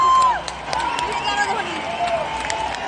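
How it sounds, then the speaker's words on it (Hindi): A packed stadium crowd at an IPL 2022 cricket match between KKR and CSK roars and claps after a six, dense continuous cheering with sharp bursts of clapping. "तालियों की गूंज से"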